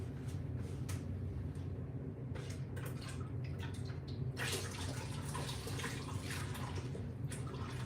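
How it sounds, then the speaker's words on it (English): Water from a tap runs and splashes quietly as paint is rinsed off a carrageenan marbled print, with scattered drips and a louder gush near the end, all fairly faint. "So I'm gonna see if I can just rinse it with water to get a clean print."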